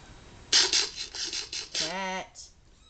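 A pet cat in a home, with a quick run of scratchy scuffing sounds followed by a single short, close meow.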